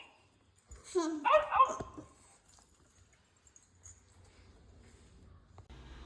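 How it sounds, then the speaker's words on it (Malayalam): A short burst of dog barking from a small electronic toy speaker, tinny and close, followed by quiet room noise. "Dog."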